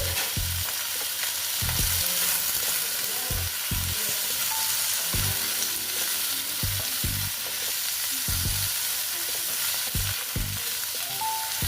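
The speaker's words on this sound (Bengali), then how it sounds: "এইবার একটু ভালো মতন ভেজে নিচ্ছি।" Spinach with turmeric frying in a pan, a steady close sizzle broken by repeated scraping stirs that knock and rattle at irregular intervals throughout, with no talking.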